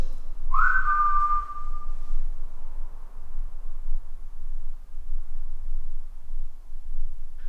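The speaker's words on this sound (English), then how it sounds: "How about trying to whistle like this?" A single steady whistled note by a person, clear and fairly close, lasting under two seconds over a constant low background rumble.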